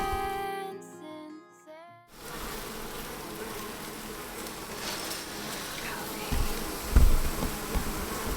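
A dense, steady buzzing of bees fills the air after a brief musical passage, with occasional louder knocks and bumps nearby.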